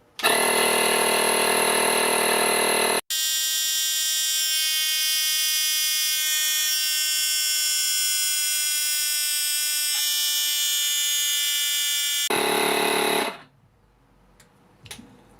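A Makita 18V cordless inflator drones loudly and steadily while pumping a tyre to 32 PSI, a harsh buzzing motor tone that briefly dips and shifts pitch early on, runs for about ten seconds, then cuts off abruptly.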